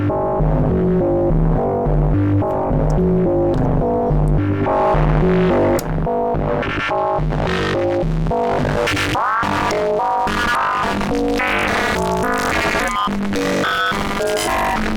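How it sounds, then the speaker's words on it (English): A Joranalogue Collide 4 filter in a Eurorack synth setup drives a gnarly distorted, throbbing tone. It pulses loud and dense with shifting harsh harmonics, alone, without voices. "Turning up the filter gain and gnarly distortion."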